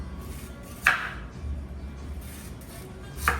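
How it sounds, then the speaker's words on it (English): A knife cuts through sweet potatoes into discs on a cutting board, giving two sharp, isolated chops about two and a half seconds apart over a low, quiet room hum. "We'll just slice these all up"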